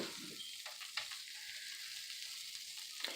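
Broken spaghetti toasting in melted margarine gives a steady, quiet sizzle throughout, with a few faint stirring clicks on top.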